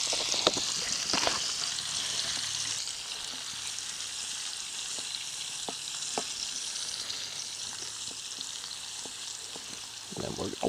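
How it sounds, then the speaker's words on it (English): Vegetables and meat frying in a pan over an outdoor campfire on a mountain trip give a steady, close hiss of sizzling, broken by a few scraping stirs and clinks, with no talking. "And then we're going to let that sizzle for a while."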